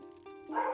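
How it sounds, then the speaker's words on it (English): A dog gives a single close bark with a tonal, whining start and a louder harsh end, heard alone. "that is my dog"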